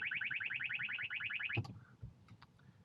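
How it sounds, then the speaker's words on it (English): A radar detector inside a Tesla sounds a quick run of rapid, high electronic chirps, fairly faint over quiet cabin noise, then breaks off into a few soft clicks. "Radar detector."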